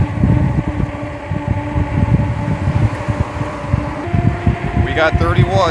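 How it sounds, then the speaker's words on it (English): Wind buffets the rider of a QLife Spark moped climbing a slight incline near 30 mph, a steady low roaring rumble heard close to the microphone while someone talks over it. "a lot of wind hitting me right now"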